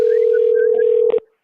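Telephone dial tone sounds as a steady, loud, unbroken hum, then a short pair of clicks and a quick cutoff near the end.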